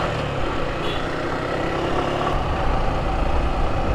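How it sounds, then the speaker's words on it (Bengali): A motorcycle cruising along Marine Drive road in Bangladesh, with a steady engine drone and road noise running continuously throughout, fairly loud and close with no talking. "ফাইনালি মেরিন ড্রাইভ রোডে এখন বাইক রাইড করব"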